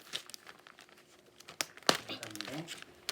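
Gift packaging crinkles and rustles in short, crisp bursts during an unboxing, close and fairly quiet, with a voice speaking over it.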